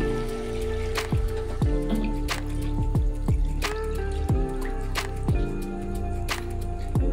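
Water is added to a goat leg curry in a cooking pan. Steady liquid noise runs throughout, broken by distinct drips and splashes at irregular intervals, close and moderately loud.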